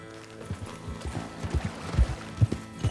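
Hoofbeats from a horse in the Western video game Red Dead Redemption 2, irregular thuds close by at a walking pace over a low musical bed, with no clear whinny standing out.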